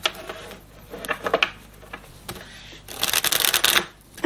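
Divination cards being shuffled for a tarot-style reading, a brisk riffling patter in short bursts with one long dense run near the end, close and fairly quiet, with no talking.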